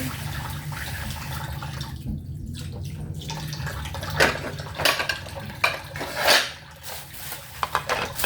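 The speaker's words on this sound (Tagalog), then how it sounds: "Hugasan muna ang chicken." Water runs and splashes as raw chicken breast is rinsed by hand, with light clatter of dishes in a home kitchen; no one speaks.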